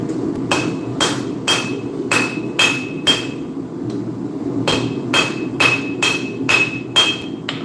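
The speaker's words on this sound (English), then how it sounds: "because this is going to be a bit of hard hammering" Hard, ringing hammer blows on hot steel at the anvil while tapering a knife blade, a steady rhythm of about a dozen loud, close strikes with a brief pause midway, no voices.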